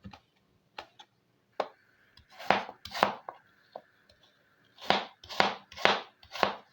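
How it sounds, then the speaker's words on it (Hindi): A knife slices small tomatoes lengthwise into fine strips on a board, giving a series of sharp, close taps: a few scattered cuts, then a quicker run of four crisp chops near the end. "टमाटर मैंने छोटे साइज़ के लिए थे और ये इस तरीके से लंबाई में इनको भी बारीक काटना है।"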